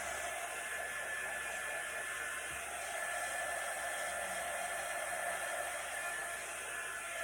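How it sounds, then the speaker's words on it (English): A blow dryer drying paint on leather boots gives a steady, close, even whooshing hiss that runs without a break for about seven seconds, with no talk. "So I'll throw the blow dryer on it real quick."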